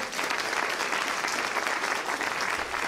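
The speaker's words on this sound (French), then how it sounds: "Vous pouvez les applaudir" Audience applause at a 2019 New Year's wishes ceremony, a steady sustained clapping from a full room that holds constant throughout without a break.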